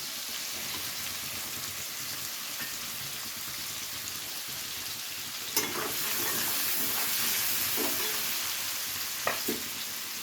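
Onion frying with shrimp and bottle gourd in a hot pan, a steady close sizzle throughout with occasional spatula stirring scrapes and clinks.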